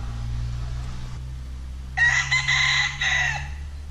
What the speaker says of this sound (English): This must have been an old chicken rooster farm.